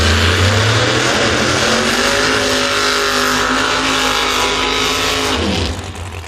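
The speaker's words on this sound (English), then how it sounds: "The Ford Mustang, nitrous powered." A nitrous-powered Ford Mustang Pro Mod drag car roars at full throttle down the strip, a loud sustained engine howl with rising harmonics that drops off sharply near the end.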